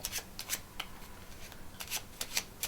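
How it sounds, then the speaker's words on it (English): Playing cards are shuffled by hand for a magic trick, a series of riffling bursts and soft flutters in a quick uneven rhythm, close and fairly quiet, with no one talking. "the cards left in your hand, I want you to give those a shuffling."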